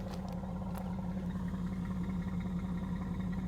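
A Mercedes-Benz car engine idles with a low, steady exhaust rumble, continuous and even throughout, with faint background noise.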